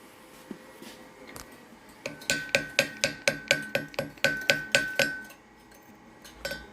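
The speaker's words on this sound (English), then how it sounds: "More hammering." About a dozen sharp, ringing metal strikes land in a steady rhythm, loud and close, after a few scattered knocks, with one last tap at the end, hammering metal while drawing wire from an ingot.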